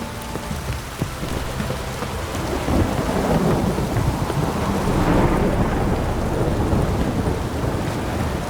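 Steady heavy rain pours down in the video game The Witcher 3 while deep thunder rumbles and swells, growing louder midway through and rolling on to the end.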